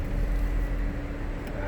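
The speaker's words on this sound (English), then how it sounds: "Now I'm just driving around the parking garage like an idiot trying to get these fruit flies to get out of the car." A car rolls slowly through a parking garage with its engine humming low and steady and tyre and road rumble echoing faintly off the concrete, with no talking.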